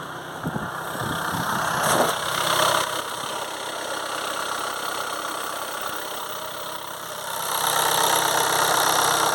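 A SEAT Leon Cupra engine idles after a timing belt change, a close, steady mechanical rumble that rises slightly toward the end, with no voices over it.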